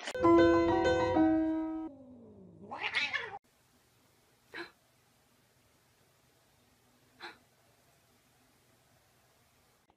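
A cat meows loudly and close by, one long drawn-out meow followed by a shorter rising call. After that there is near silence, broken by two faint brief rustles.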